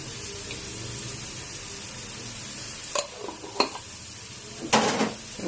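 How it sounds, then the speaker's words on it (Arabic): Onions sizzle steadily in a frying pan, a soft continuous hiss broken by a few sharp scraping clicks of a spoon stirring against the pan near the end. "احنا حطينا البصل تحمر شويه"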